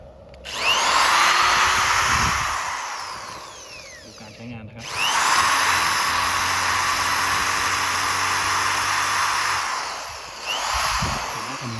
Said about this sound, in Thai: สว่าน